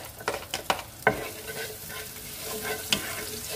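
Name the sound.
garlic and onion frying in a pan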